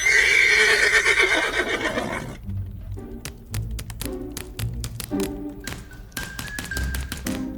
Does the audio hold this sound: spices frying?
no